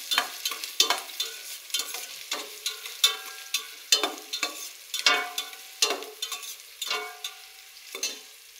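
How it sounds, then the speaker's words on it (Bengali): Chopped onions frying in oil in a pot, a close crackling sizzle broken by repeated scraping strokes of a spoon stirring at a regular pace, with no talking. "তো দেখো আমি তেল দিয়ে দিলাম, পেঁয়াজ কুচি দিয়ে দিলাম। এখন ভালো করে এগুলাকে ভেজে নেব।"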